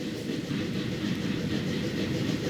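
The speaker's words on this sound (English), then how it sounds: "Just as that train is leaving," Train in the Transport Fever 2 video game arriving at a station: a steady rolling rumble with faint clickety-clack, constant and moderately loud throughout, with no speech.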